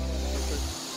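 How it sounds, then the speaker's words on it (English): Wah Kaba Falls near Sohra in Meghalaya, a steady broad roar of falling water heard from a viewpoint above, with people talking faintly in the background. "Waterfall. Or in Hindi we call it jharna."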